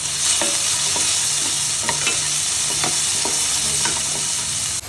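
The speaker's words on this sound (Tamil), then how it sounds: "இஞ்சி, பூண்டு, தக்காளி ஆட் பண்ணிவிட்டு வதக்கிக்கலாம்" Shallots, ginger, garlic and tomato sauté in a pan over a loud, steady sizzle, with soft scrapes and taps of a spatula stirring throughout, close and with no voices.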